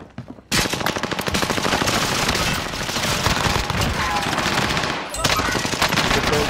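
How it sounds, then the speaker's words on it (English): Dense, sustained automatic gunfire in the Warzone video game, rapid bursts rattling loudly almost without pause, with a brief break near the end before the firing resumes. "Where are those shots coming from?"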